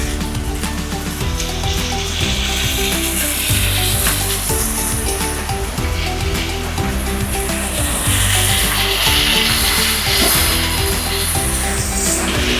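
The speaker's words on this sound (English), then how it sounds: "Right now, we're just gonna brown the beef." Marinated beef for caldereta browning in a pan, a loud, dense, continuous sizzle close up with faint stirring scrapes throughout.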